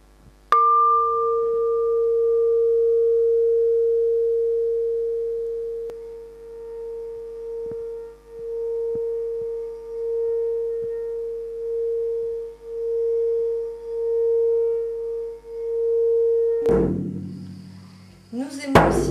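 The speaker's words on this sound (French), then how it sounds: "Le bol de cristal avec son énergie cristalline." A crystal singing bowl is struck once and then rubbed, producing a pure, sustained ringing tone that swells and pulses in slow waves for about fifteen seconds before a voice cuts in near the end.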